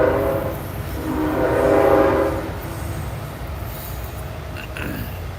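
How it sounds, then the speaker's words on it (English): A loud train rumbles past with a heavy low roar and a sustained horn-like tone that swells, then fades into rattling. "this loud ass train"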